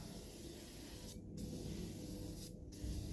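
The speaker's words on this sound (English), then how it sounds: "It definitely ain't gonna hurt to spray this on here." Two short hissing bursts from a spray can aimed at a dirty bearing race, close and fairly quiet, separated by about a second.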